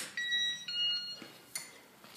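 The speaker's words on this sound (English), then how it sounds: "It's your little alarm telling you your door got open." House door-open alarm chime, a few short high electronic beeps ringing close and moderately loud, followed by faint clicks and room noise.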